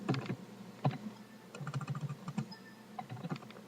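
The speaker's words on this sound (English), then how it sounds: "I can type" Computer keyboard being typed on, soft irregular key clicks in short bursts with brief pauses, close and fairly quiet, with no voices.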